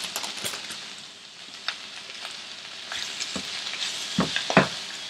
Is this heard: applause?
no